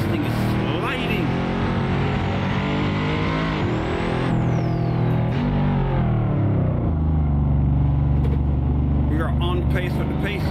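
A Pagani hypercar engine in Assetto Corsa drones loudly and steadily as it shifts between gears, with tire noise and a passing truck audible, while someone talks over it.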